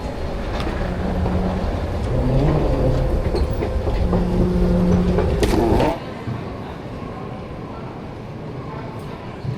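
Riding a Copenhagen metro train, a loud rolling rumble with clattering rails and whining tones, dropping abruptly to a quieter cabin hum near the end.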